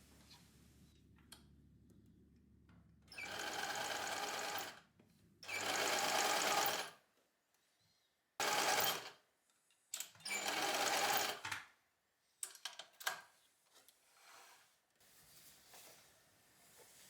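A sewing machine stitches French seams on a wrap top in several loud, fast-running bursts of whirring, separated by short pauses and some faint handling noise, with no voices.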